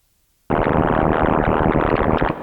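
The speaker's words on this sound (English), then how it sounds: "Let's try the red noise." Red noise from an Arturia Pigments software synthesizer switches on abruptly and holds as a steady, dense, rumbling hiss, weighted toward the low end, for about two seconds before dropping slightly at the end.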